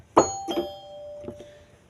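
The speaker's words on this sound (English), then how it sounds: "glockenspiel," Glockenspiel voice played on a Yamaha synthesizer, a few bright metallic struck notes in quick succession, the first strongest, each ringing out with a clear lingering tone and no speech.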